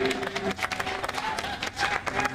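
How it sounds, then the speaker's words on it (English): An audience at a pageant in Placerville, California, claps for three candidates, with uneven bursts of applause mixed with talk and crowd murmur. "let's have a round of applause for our three candidates tonight."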